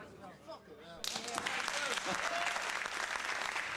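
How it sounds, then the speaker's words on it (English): Someone speaks briefly, then applause breaks out abruptly after a song on a live stream, dense steady clapping from a small crowd that continues to the end. "We have to have a comedic clap for going after that one"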